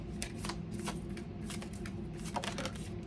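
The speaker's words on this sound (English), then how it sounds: "I love these cards, but the finish is very hard to shuffle that way." Tarot cards with a hard-to-shuffle finish are shuffled by hand, giving a steady papery riffling with repeated soft bursts, fairly close and continuous, with no talking.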